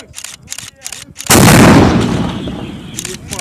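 A field artillery gun fires a full charge near Debaltseve in Ukraine: one sudden, loud boom with a long rumbling decay, after quieter crackling handling noise before the shot.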